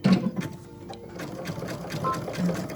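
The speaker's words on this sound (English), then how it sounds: "You can even use a 5mm width, just so that it covers both sides and stitch them together." A sewing machine zigzag-stitches fabric for a tissue box cover, a steady mechanical whirr and rapid needle clatter running throughout, close to the microphone, with a voice faintly underneath.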